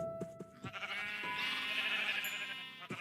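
A sheep bleats in Minecraft, a drawn-out wavering cry over soft game background sounds, with no talk in the clip.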